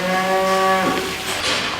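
A dairy cow from a ProCROSS grazing herd in Oakdale, California gives one loud, close moo lasting under a second, followed by a breathy tail and open outdoor air.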